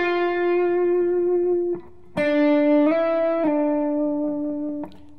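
Electric guitar plays an intro lick, sustained distorted notes joined by slides and pull-offs, a long held note, a brief pause, then a stepped phrase, clear and close with no talk.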